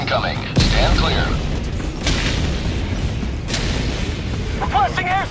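Orbital barrage explosions in Helldivers 2 land as a heavy boom, then several more deep, rumbling blasts roll in over a dense, continuous battle din, with game voices chattering throughout.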